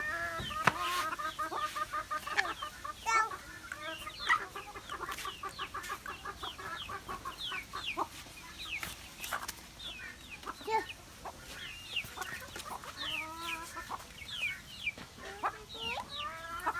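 Many chickens cluck and chatter close by in a steady, overlapping stream of short calls, with no voices.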